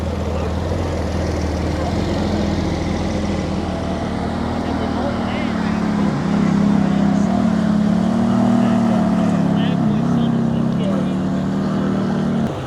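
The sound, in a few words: McLaren car engine at cars and coffee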